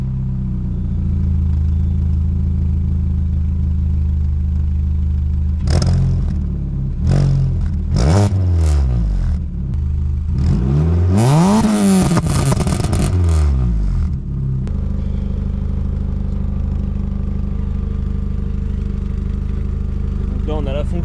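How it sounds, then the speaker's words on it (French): A Peugeot 206 CC 1.6i 110 stance build idles steadily, then revs sharply several times in rising and falling bursts before settling back to a low idle, close and loud. "est-ce que tu nous ferais pas écouter un peu ton moteur avant?"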